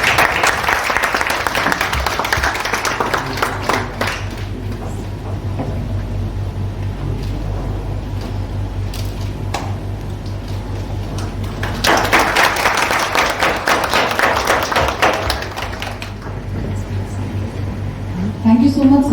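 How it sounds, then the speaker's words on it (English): Audience at an academic management lecture and felicitation ceremony breaks into applause in two sustained bursts of clapping, separated by a quieter stretch with a low steady hum underneath. "A huge round of applause, everyone."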